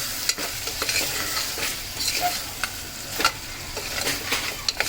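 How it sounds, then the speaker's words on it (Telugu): Goat head curry frying in hot oil in a pan, a steady close sizzle broken by repeated sharp scrapes and clacks of a spoon stirring, with no voices. "కొంచెం కాసేపు నూనెలో ఉడకనిద్దాం"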